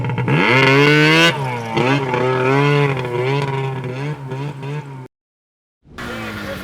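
A Polaris snowmobile engine revs hard during a backcountry hill climb, a loud, close, high-pitched whine that rises and falls, cuts out briefly to silence near the end, then roars again.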